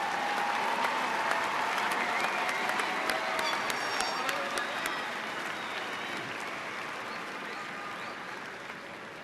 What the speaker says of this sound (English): Let's give a round of applause to the candidates from the College of Science.